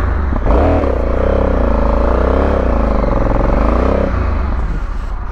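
A motorcycle engine on rough mountain ground revs up and down in wavering surges, loud and close, then drops back to a rough idle with clattering.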